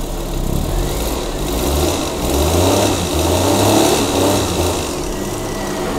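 A 1989 Suzuki Mehran's engine revs steadily and close for the whole stretch, with a low rumble rising and easing in several swells.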